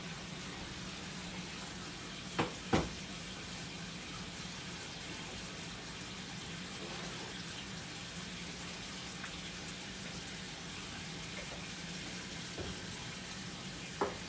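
Corned beef hash with country ham sizzles steadily in a pan as it slow cooks, a continuous close crackle and fry with a few sharper pops scattered through.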